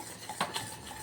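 A spoon stirs a milk cake mixture with almonds in a pan, giving a couple of sharp scraping clinks over a soft background, close and without talk.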